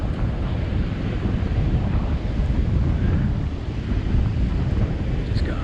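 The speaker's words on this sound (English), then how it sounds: "The wind's gone full offshore here now." Strong offshore wind buffets the microphone at a rocky surf spot on Boa Vista, a steady broadband roar with breaking surf underneath, continuous and loud throughout.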